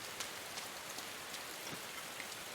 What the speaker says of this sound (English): filled with rain